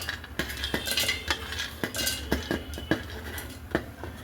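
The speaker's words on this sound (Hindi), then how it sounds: "अब मैं डालने लगी हूँ चटनी के लिए मूंगफली, सारी" Peanuts are tipped into a pan on a gas stove for chutney, giving a close, dry run of sharp rattling clicks and taps with no speech.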